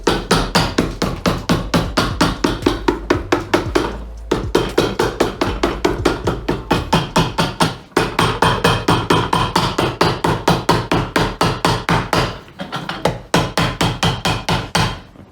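A hammer strikes a leather riding boot during repair. It gives rapid, evenly spaced whacks, close and loud, in long runs broken by short pauses, and no one speaks.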